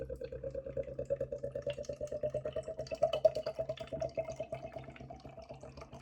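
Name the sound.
hard pour of Hawkstone Black nitro stout from a can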